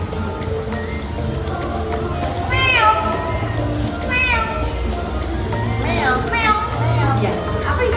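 A cat meows several times at steady intervals over a constant background hum and faint voices.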